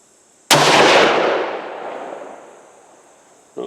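One sharp, loud rifle shot using a Ramshot TAC powder load, fired at a target outdoors, followed by a long decaying echo rolling away over about three seconds.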